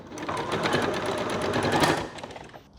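A sewing machine stitches satin fabric for a christening gown, a rapid, even mechanical chatter running close and loud for about two seconds before slowing to a stop.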